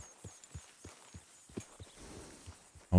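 Soft, regular horse hoof clops at a walking pace in Red Dead Redemption 2, muffled and fairly quiet, with a sharp louder knock at the very end.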